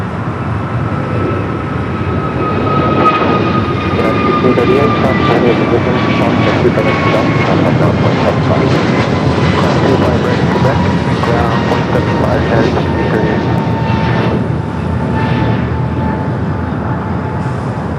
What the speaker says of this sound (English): Next takeoff, American Airlines flight 345 heading to Miami. It's an A321